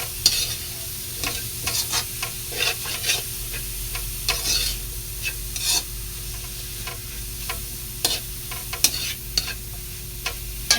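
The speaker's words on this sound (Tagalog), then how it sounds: "Haluin lang natin magaling." Batchoy meat being stirred in a hot pan, a steady sizzle under repeated scraping and clanking strokes of the spoon, close and continuous with no talking.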